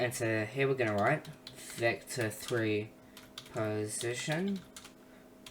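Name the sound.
computer keyboard typing code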